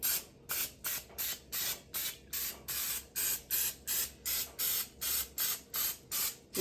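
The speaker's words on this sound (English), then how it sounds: "Just a light spray." Cooking spray hissing into a muffin pan in steady short bursts, about a dozen quick even pulses in a row, close up and alone.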